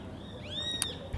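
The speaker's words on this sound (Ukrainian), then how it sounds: "Пташечко, ти так файно верещиш" A bird at Chacarita Cemetery in Buenos Aires gives a short, shrill rising-and-falling screech, fairly close, over low outdoor background hum.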